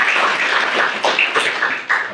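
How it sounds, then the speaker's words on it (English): Audience at a California Ocean Day afternoon panel clapping for the Explore the Coast program, a brief burst of fairly close, dense applause with a few sharper individual claps standing out. "we just wanted to give you a round of applause"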